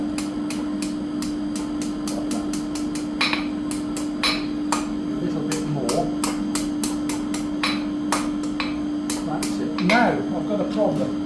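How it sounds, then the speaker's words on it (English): A blacksmith hammers hot metal on an anvil while shaping a bottle opener: a bright ringing tone rings steadily behind rapid, evenly spaced metallic strikes, with a few heavier blows and faint background voice. "just tap over the anvil like that, then bring it back"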